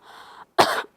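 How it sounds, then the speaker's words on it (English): A soft breath in followed by a single deep, forceful cough, close and alone. "take another bigger breath and then a deeper cough."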